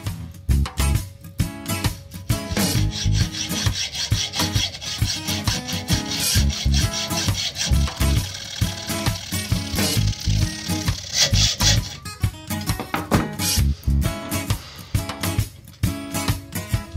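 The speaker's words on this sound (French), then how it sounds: "je vais utiliser une scie à métaux pour couper cette partie-là" A hand hacksaw cuts through a scooter exhaust pipe, steady rasping strokes back and forth in a continuous rhythm, close and fairly loud.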